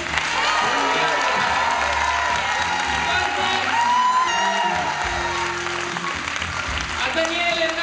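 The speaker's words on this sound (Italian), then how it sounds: "Prolunghiamo l'applauso per ringraziare la Blue Service" Theatre audience at a concert in Ascona applauding during the closing thanks: sustained, loud clapping with cheers and whoops, while a voice and some music carry on over it.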